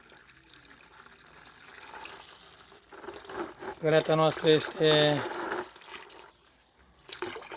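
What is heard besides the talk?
rainwater being poured into a bucket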